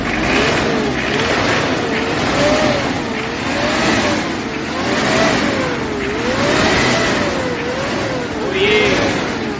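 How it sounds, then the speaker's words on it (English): A freshly installed Ford Ranger WL 2.0 engine revs in a mechanic's workshop, rising and falling in several smooth cycles over a loud, close, steady idle. "Can you rev a little bit?"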